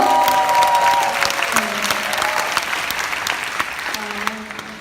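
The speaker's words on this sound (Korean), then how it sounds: "박수 쳐주세요." A seminar audience breaks into loud, dense applause, many hands clapping at once close by, holding strong before slowly tapering off, with a brief voice faintly heard underneath.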